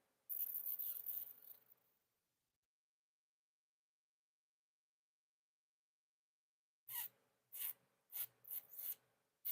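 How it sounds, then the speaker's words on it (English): Quick bursts of keyboard typing, close and crisp: one short flurry of keystrokes, a long silence, then several rapid clusters of clicks. "I should just keep typing these questions."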